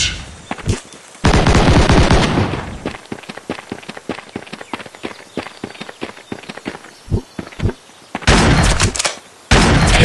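Gunshots in the mobile shooter Pixel Grand Battle 3D: loud bursts of automatic fire open and close the stretch, with a long run of rapid single cracking shots between them, sharp and close.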